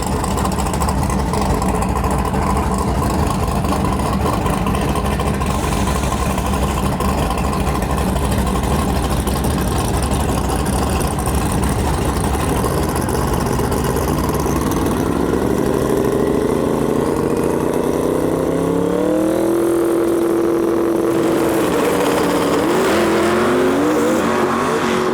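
A wild Camaro drag car at Gainesville Raceway during Sick Week idles with a heavy, loping rumble that goes on at length, then revs up near the end, loud and close.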